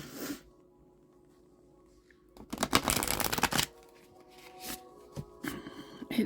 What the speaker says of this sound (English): I'm going to do one more shuffle and one more cut to get the bottom energy.